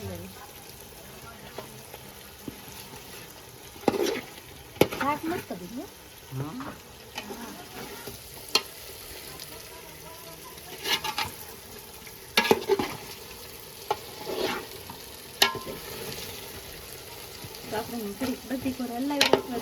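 Food cooking in a pot being stirred, sharp intermittent scrapes and clanks of a utensil against the pot over a low, steady sizzle, with a voice talking in between.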